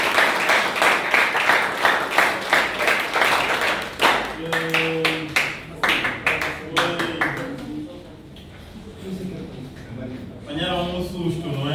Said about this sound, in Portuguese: Então, mais salva de palmas.